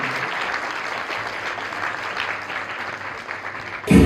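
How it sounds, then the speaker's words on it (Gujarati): An audience at a school annual day claps for the fathers, a steady, fairly loud wash of applause that ends with a sudden louder thump. "તો એકવાર બધા પોતપોતાના ફાધર માટે એકવાર જોરદાર તાળી."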